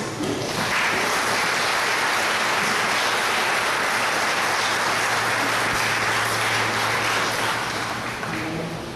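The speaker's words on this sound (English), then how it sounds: "Give her another round of applause." Audience applause following a memorial lecture, a steady, dense wash of clapping from a large crowd that holds at full strength for several seconds before easing slightly at the end.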